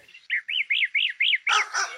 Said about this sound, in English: there was one of the sound files which was just like bird song and wind in the trees